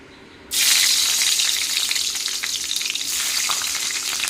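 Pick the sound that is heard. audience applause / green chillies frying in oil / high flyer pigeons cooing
green chillies frying in oil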